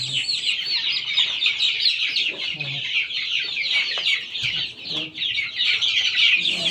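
A dense, continuous chorus of many one-month-old local chicken chicks, weak after a long journey, peeping and chirping close by, with a faint voice now and then underneath.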